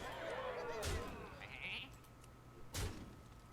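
A sheep card in the Hearthstone digital card game gives a quivering, wavering bleat near the start, followed by lighter chimes and a short thud from the game's interface.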